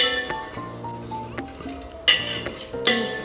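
A spoon stirs semolina as it roasts in a pan for milk suji halwa late at night, giving several close metallic clinks and scrapes against the pan with soft gaps between them.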